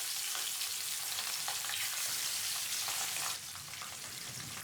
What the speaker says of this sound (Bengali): গরম সর্ষের তেলে মাছগুলোকে খুব হালকা করে ভেজে নিতে হবে। পাবদা মাছ খুবই ডেলিকেট, তাই সাবধানে ভাজতে হবে।